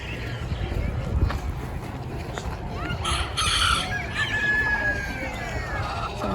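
Chickens clucking and a rooster crowing amid the bustle of an outdoor trade days market in Canton, Texas, with a steady crowd murmur and people talking nearby over the birds.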